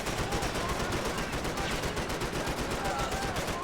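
Sustained, dense gunfire from the video game Max Payne 3 on hard difficulty: rapid, overlapping shots forming a steady, loud barrage with no pauses across the whole stretch.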